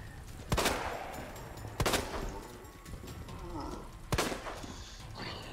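Three sharp gunshot blasts ring out in the Resident Evil 2 video game, spaced irregularly and each trailing into a brief echo, over a quiet background.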